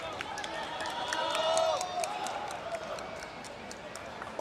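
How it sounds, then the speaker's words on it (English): A Philippine crowd at a pickleball semifinal or final cheers and shouts in a large venue, a continuous swell of voices that peaks in the middle and then eases, with scattered sharp sounds from the court and an announcer's voice over the top. "Hear the Philippine crowd in the background as they cheer on their team"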